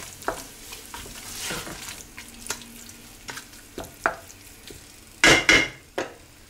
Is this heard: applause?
no